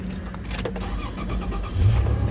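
A Toyota FJ Cruiser engine running, a steady, close rumbling idle with a low, rough drone that swells slightly louder near the end.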